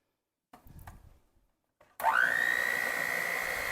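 An electric mixer whirs steadily through Jell-O pudding and low-fat milk for cheesecake filling, starting abruptly after a few quiet handling knocks and running loud and even to the end.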